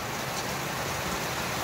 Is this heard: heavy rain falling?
yes